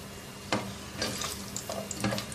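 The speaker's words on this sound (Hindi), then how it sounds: "इसमें तेल शामिल कर देंगे 1/4 प्याली, 10-12 काजू, ये 2-3 मिनट फ्राई करेंगे इनको" Cashews frying in about a quarter cup of oil give a low, steady sizzle, broken by a few brief louder bursts of crackle and stirring, fairly close and without any talk.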